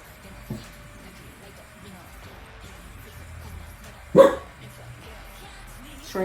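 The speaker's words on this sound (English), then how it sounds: "Sorry about my dog." A single sharp dog bark rings out once, fairly close, over a quiet background with faint music.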